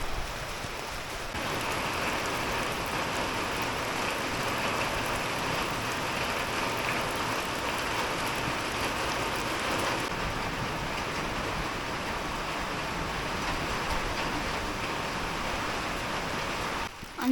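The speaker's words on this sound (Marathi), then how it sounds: "भरपूर पाऊस भरपूरच आलाय बघा" Heavy unseasonal March rain in Konkan, a dense, steady hiss of downpour hitting surfaces, loud and continuous throughout with no talk.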